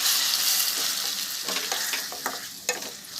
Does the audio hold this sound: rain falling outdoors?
no